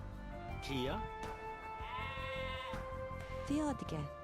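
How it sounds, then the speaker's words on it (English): Sheep bleats from the strategy game Age of Empires II, several short wavering cries heard under someone talking, with a louder bleat near the end among game sounds. "Sheep found."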